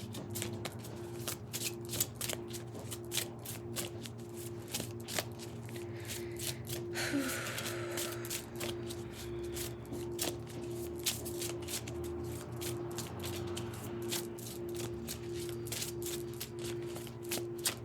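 Tarot cards shuffled by hand at close range, a steady flurry of faint crisp riffles and taps running throughout over a low constant background hum.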